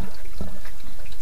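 Water from a slow RV sink drain running and leaking at a rotted-floor P-trap, a short steady wet trickle close by with a brief splash.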